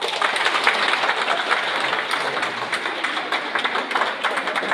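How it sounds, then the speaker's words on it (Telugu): Dense, steady audience applause from a crowd at an Amaravati celebration at Dr. B.R. Ambedkar University, where a candle is being lit; the clapping is loud, continuous and fairly close, with no talk over it. "అందరూ కూడా బిగ్ క్లాప్స్."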